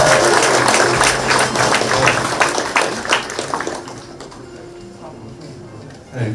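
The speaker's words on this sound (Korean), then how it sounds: "큰 박수 부탁드립니다." A crowd at a political campaign office opening applauds in a loud burst of clapping that thins and fades after a few seconds, leaving quieter room noise with some voices before a brief rise at the end.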